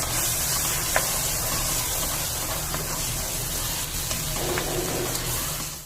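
Tomato paste frying in a pan for a chicken kofta curry, a steady close sizzle with faint crackles and pops running through, no talk.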